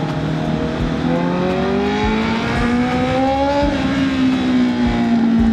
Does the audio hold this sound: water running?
no